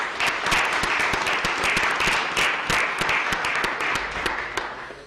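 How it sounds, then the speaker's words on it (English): An audience gives sustained applause for a baseball coach honored as Essex County Coach of the Year, with dense clapping holding steady throughout and easing slightly at the end. "And I think that deserves a round of applause."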